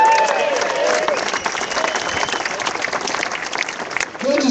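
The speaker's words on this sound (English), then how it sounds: "let's cheer for Judge Dave" Spectators at an amateur car awards event applaud and cheer for a judge, with steady clapping and some shouts mixed in, while a voice speaks briefly over it toward the end.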